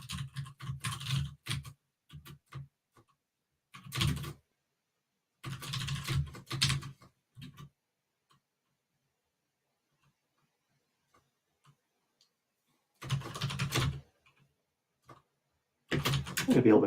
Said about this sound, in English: typing Rust into a Markdown editor